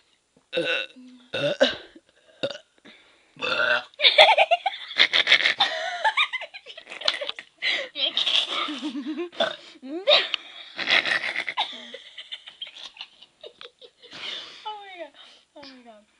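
A woman lets out a string of loud, drawn-out burps, one after another, mixed with laughter and giggling from people nearby.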